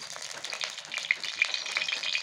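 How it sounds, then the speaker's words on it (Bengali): Mustard oil heating in a wok on a village kitchen stove before fish is fried, giving a soft continuous hiss with faint crackles and a few brief pops, heard alone without talk. "কড়াইয়ের মধ্যে দিয়ে দিচ্ছি একটু সর্ষের তেল।"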